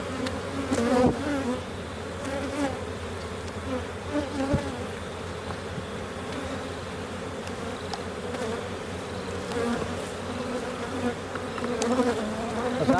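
Honey bees buzz steadily around an open hive during a May inspection, a dense, close drone with individual bees swelling louder as they pass near.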